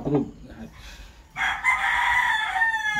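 A Sweater Kelso and Oak Grove cross gamecock rooster crows once, a loud close call rising and trailing off over a second and a half, after some brief clucking and faint background noise.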